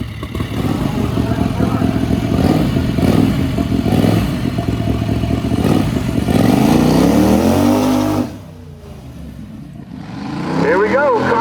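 A turbocharged 670 dragster on a drag strip roars loudly, its engine climbing sharply in pitch before cutting off abruptly, then a quieter idle returns, with someone speaking over the noise.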